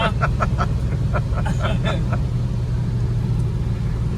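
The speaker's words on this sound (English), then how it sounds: "that transmission whine, that is cool, ain't it?" A 1967 Chevelle SS 396 with a four-speed transmission cruises along as heard from inside the car, a low steady engine drone with a faint gear whine beneath it, and voices talk intermittently over it at the start.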